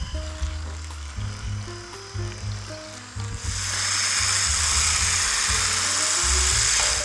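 Muffin batter gets mixed with an electric mixer, a steady whirring motor hum that shifts into a louder, rougher, hissing churn halfway through, heard alone and close.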